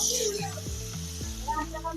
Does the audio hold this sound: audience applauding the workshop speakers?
no